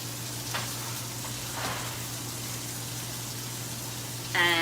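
Pancetta and garlic sizzling in a hot pan for baked spaghetti, a steady close crackle and hiss with faint stirring scrapes, continuous and fairly quiet throughout.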